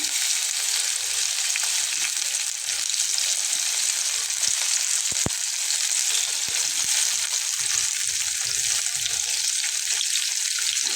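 Fish fries in oil in a non-stick pan, a loud, even, close sizzle that runs unbroken throughout, with a few faint clicks and no speech.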